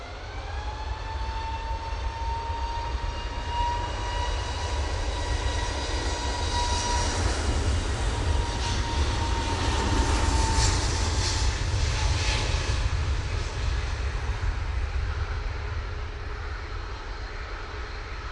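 An orange jet airliner rolls on the runway at Manchester Airport, bound for Reykjavik, its engines a loud continuous roar with a high whine that rises and swells steadily from a distance.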